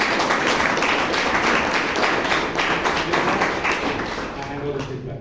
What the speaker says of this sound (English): I want all of you to give a round of applause for all the role takers and the committees